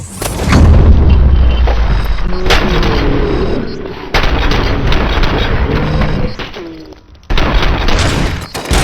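Loud gunfire from the RoboCop video game: dense booming shots and rapid bursts with short pauses and sharp restarts, close and heavy throughout.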